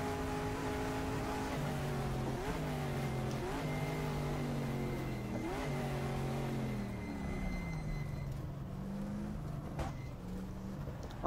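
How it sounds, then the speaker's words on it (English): A Ford GT40 engine from the GTR 2 racing game revs hard and drops through repeated gear shifts, with a sharp backfire pop near the end. The sound is steady and forward, with no voices. "Oh, the backfire. I should mention, this mod sounds phenomenal."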